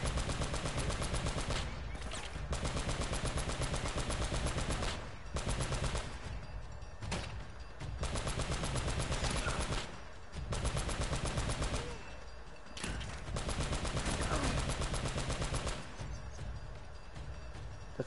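Sustained machine-gun fire rattles almost nonstop in an Uncharted shootout against a mounted turret, loud, close bursts broken by brief pauses.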